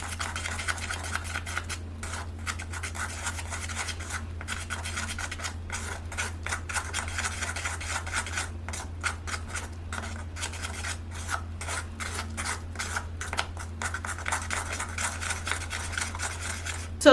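Turmeric and clay face mask being stirred in a bowl, a close, continuous rhythmic scraping and rubbing that keeps going with small irregular pauses.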